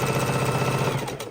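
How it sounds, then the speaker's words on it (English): A Singer heavy duty sewing machine chain stitches quilt blocks at a 1/4 inch seam, giving a steady, fast, close mechanical whir with an even rhythmic needle chatter throughout. "We're using our Singer heavy duty machine."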